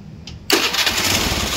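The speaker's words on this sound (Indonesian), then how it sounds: "Nah, kita hidupkan lagi motornya." A Honda Beat motorcycle with a drained battery and a cutout fault starts up after a short quiet pause, then settles into a loud, steady running engine close by.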